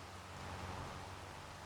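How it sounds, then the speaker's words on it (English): Steady rain falling in Farming Simulator 25 during vegetable loading, a continuous even hiss of downpour with no talk, uniform and unbroken throughout. "it has started raining as we were loading up all of our vegetables here"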